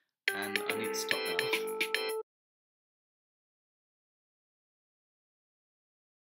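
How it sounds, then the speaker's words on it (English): A computer's incoming-call ringtone plays a bright chiming melody for about two seconds, then stops, leaving silence apart from a brief sound at the very end. "That was my phone. Well, it wasn't. It was this computer."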